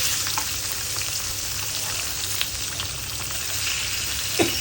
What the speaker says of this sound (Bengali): আলুগুলো সুন্দর করে লাল লাল করে ফ্রাই করে নিব